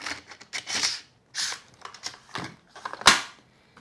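A Milwaukee M18 Fuel 2744-20 21-degree cordless framing nailer bump firing nails into wood, giving a quick series of sharp mechanical snaps and clacks, close up, ending with one louder crack.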